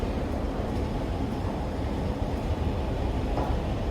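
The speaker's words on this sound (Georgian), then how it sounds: "ეს ამსტერდამის მეტრო მეგობრებო" An Amsterdam metro train gives off a steady, dense rumble from inside the carriage, continuous and unbroken throughout, with no voices.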